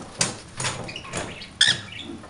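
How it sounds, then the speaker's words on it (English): A cockatiel squeals sharply near the ear, two piercing high cries spaced apart with softer rustling and chirps between, very close and loud. "he's squealing in my ear"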